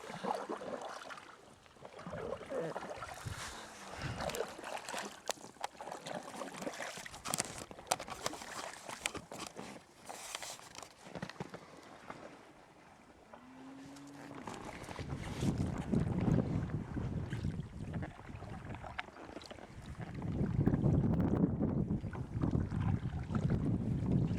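Kayak paddle strokes on the River Parrett, soft water splashes and drips with wind buffeting the microphone, steady through the paddling and louder gusty rushing near the end.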